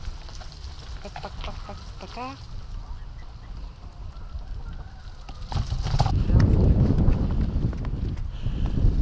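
Horse hooves clip-clop along a road in Guatemala or El Salvador at a slow walking pace, with a brief honking call and a rushing noise swelling toward the end.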